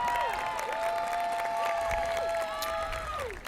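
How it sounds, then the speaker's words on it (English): A crowd applauds steadily at a high school graduation, with a bright tone ringing through the clapping the whole time. "Round of applause for them."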